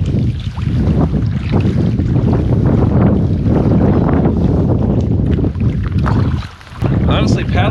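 A canoe is paddled on a windy lake, with heavy wind buffeting the microphone and irregular water splashes and strokes close by throughout.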